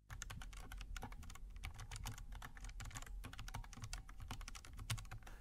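Rapid typing on a Perixx 535 mechanical keyboard with red linear switches, close and clear, a continuous patter of soft key clicks and thocks.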